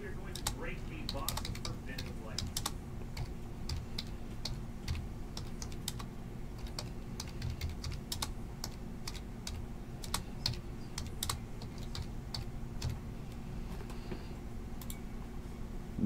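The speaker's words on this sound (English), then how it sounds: "It's tough to type with one hand." Steady one-handed typing on a computer keyboard, a continuous run of light key clicks over a low background hum, close and moderately quiet throughout.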